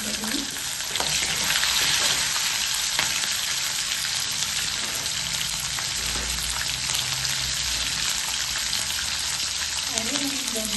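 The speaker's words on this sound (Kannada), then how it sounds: "ಇವಾಗ ಇದೇ ಟೈಮಲ್ಲಿ ನಾನು ಸಣ್ಣದಾಗಿ ಕಟ್ ಮಾಡಿರೋಂಥ ಒಂದು 4 ಹಸಿಮೆಣಸಿನಕಾಯಿನ ಹಾಕ್ಕೊಳ್ತಾ ಇದ್ದೀನಿ." Four finely chopped green chillies frying in hot oil with peanuts and chickpeas, a dense, steady close sizzle like rain that runs throughout with faint spatter.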